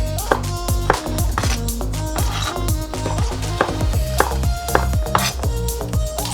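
Knife chopping bell pepper (capsicum) on a board, a rapid series of sharp, irregular close-up taps with brief pauses between bursts.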